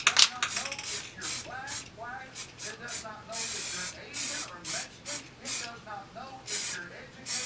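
Repeated short hissing bursts of an aerosol spray can, roughly a dozen quick sprays in an uneven rhythm, close up, with a low hum underneath.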